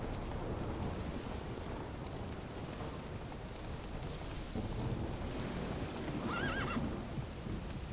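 Roach, Geralt's horse in The Witcher 3 game, gives a sharp whinny near the end, set against a constant low rumble of hooves and rain-like background noise.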